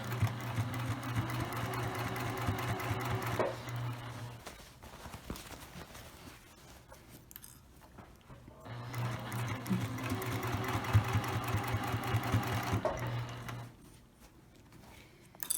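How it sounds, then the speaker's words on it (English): Up close, a sewing machine runs a seam on a lined tote bag with boxed corners in two long steady whirring passes, separated by a quieter stretch of handling with no speech. "So where I remove the sewing pins, that's where I'm going to start to sew."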